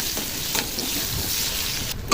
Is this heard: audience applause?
no